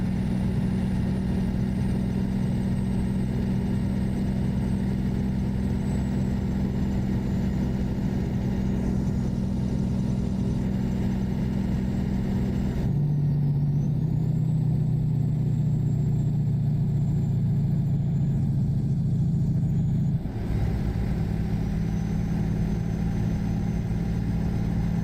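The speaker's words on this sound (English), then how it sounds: "We are running a 500 horsepower Cummins X15 with the 18-speed transmission" Steady drone of a 500 hp Cummins X15 truck engine with an 18-speed transmission in American Truck Simulator, a low humming idle that shifts pitch as it changes speed, loud and continuous throughout.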